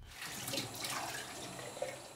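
A tap runs in a home in Albania supplied with chlorinated reservoir drinking water, a quiet steady stream of water with a small splash or drip near the end.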